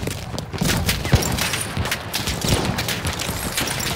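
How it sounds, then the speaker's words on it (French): A machine gun rattles in Battlefield 1 during a Verdun Heights conquest battle, with dense bursts of gunfire and booms layered over a constant loud war din. "Une mitrailleuse."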